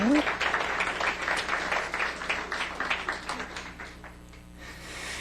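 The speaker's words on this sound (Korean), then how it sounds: "정말 놀라운 우리의 아내들을 향해서 박수를 한번 보내주시기 바랍니다." Congregation applause at a church sermon, a moderate patter of many hands that gradually thins and fades out, with a voice briefly audible at the start.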